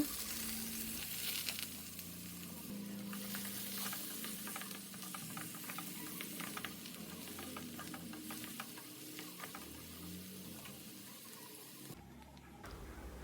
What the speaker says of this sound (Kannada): ಆನಿಯನ್ ಕಲರ್ ಚೇಂಜ್ ಆಗೋವರೆಗೂ ಒಂದು ಸ್ವಲ್ಪ ಫ್ರೈ ಮಾಡ್ಕೊಳ್ಳೋಣ